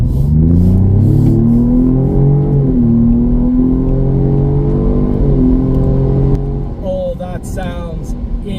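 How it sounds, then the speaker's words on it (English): A 2025 Ford Explorer ST's twin-turbo V6 revs hard under steady acceleration at night, the pitch rising through several gear changes before easing off near the end. "So the sound of the Explorer ST is a total win. This is a V6, a 6-cylinder twin turbo engine."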